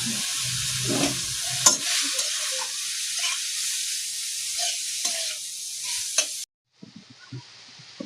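Grated carrot and beetroot frying in a pan, a steady close sizzle broken by repeated stirring scrapes and knocks. Near the end the sound cuts briefly, then returns as a fainter hiss.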